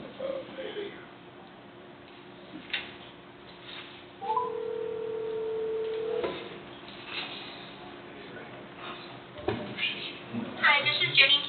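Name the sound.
telephone being dialed for speakerphone call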